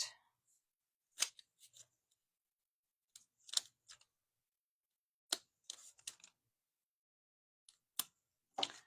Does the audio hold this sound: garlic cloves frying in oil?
no